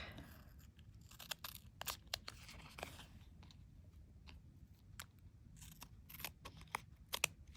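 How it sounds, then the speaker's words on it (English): Scissors snip metal tape trimmed from the back of a foil art piece, a series of quiet, sharp cutting clicks and crunches spaced irregularly, close and faint, with no talking. "Trim those from the back."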